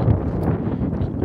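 Breezy wind gusts across the microphone on a cold mountain trail along the Continental Divide Trail, a steady low buffeting rumble that lasts the whole moment.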